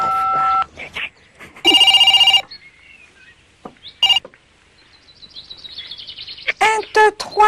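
Telephone keypad tones beep in bursts as a number is dialed on a toy-like phone, mixed with chirpy electronic sounds and bright tonal blips, loud and close.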